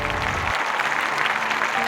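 A crowd applauds at a press conference scene in the film Fateful Findings. Dense, steady clapping continues at close range for about two seconds.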